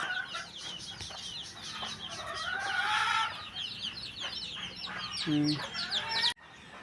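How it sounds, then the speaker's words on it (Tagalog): A hen and flock of chickens cluck and chatter continuously, with chicks peeping and some background noise, ending abruptly. "Yan, mga manok. May mga sisiw."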